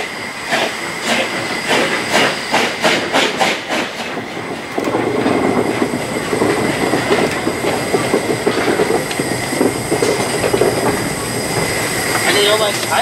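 Narrow-gauge train shunting at a station, wheels squealing loudly against the rails with rhythmic clickety-clack over joints, a continuous rumbling passage close by, no talk.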